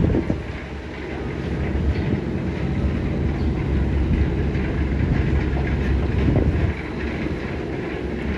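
Passenger ferry Green Line 2, crowded with Eid holiday travellers bound for Ilisha, turns in reverse gear with a steady, heavy low engine rumble. Wind buffets the microphone throughout.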